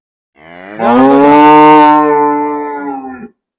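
A single long, loud moo from a Jersey cow, rising quickly and holding steady before trailing off, close by and alone.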